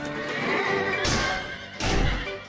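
A horse neighs twice in loud, close whinnies about a second apart, breathy and shrill, over a muffled background with faint hoof movement.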